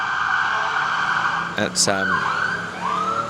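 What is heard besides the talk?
police car siren passing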